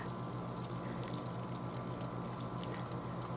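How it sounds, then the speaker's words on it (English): Water is poured onto potted caudiciform plants such as adeniums, making a steady, faint hiss and trickle without pause. "Literally just dumping water on them."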